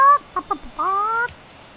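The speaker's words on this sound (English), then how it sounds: "But look at these chickens." Minecraft chickens give a few short, clear clucks, then a longer rising cluck, close and distinct with nothing else heard.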